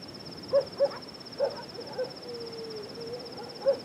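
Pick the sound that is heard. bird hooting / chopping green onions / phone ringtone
bird hooting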